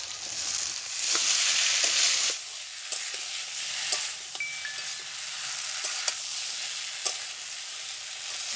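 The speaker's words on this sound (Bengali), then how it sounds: "এবারে আমি ভেজে রাখা কচুগুলো দিয়ে দেব, ভেজে রাখা আলুটাও দিয়ে দেব" Fried taro and potatoes go into a hot pan of curry, with a loud hissing sizzle at first that settles into a steadier frying crackle, broken by scattered clicks and stirring scrapes, and no talking.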